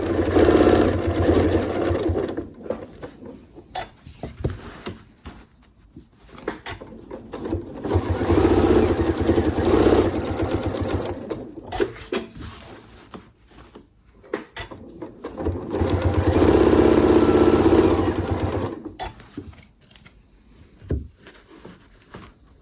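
A Janome Horizon Memory Craft 9480 QC sewing machine stitches in ruler quilting, running in bursts of rapid whirring that rise and fall with short pauses and light clicks between runs.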